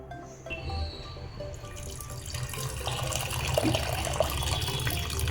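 Toor dal is rinsed under running tap water in a kitchen, a steady splashing stream with dripping and sloshing in a sink, continuous and close, with no talking.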